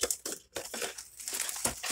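Loud crinkling and crumpling of plastic trading card pack wrappers, a few sharp crackly bursts in quick succession, close by with no talking.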